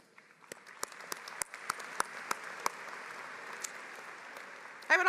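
Audience at a college commencement ceremony applauding in a large hall, a moderate steady patter of many hands with a few sharp claps standing out, before a voice resumes at the end.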